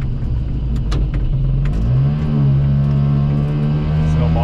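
A Piaggio Ape 50 three-wheeler's small engine drives uphill, its droning note rising steadily as the revs build, loud and close throughout.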